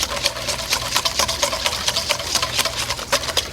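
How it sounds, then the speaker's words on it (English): A whisk beats rapidly against a bowl while oil is worked into homemade mayonnaise, making a close, brisk rhythmic clatter of quick repeated taps with no talk. "The more oil I add, the more I whisk, the thicker it's going to get."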